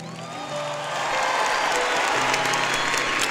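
Audience applause at a Brazilian charity gathering, a sustained dense clapping that swells within the first second and stays loud to the end, with faint crowd noise and a tonal hum underneath.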